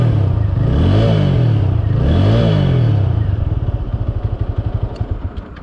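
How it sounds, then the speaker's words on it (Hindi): A TVS Apache RTR motorcycle's exhaust revs loudly twice in long rising-and-falling sweeps, then settles into a rapid, lumpy idle putter. "तो कुछ ऐसा है इसका एग्जॉस्ट साउंड।"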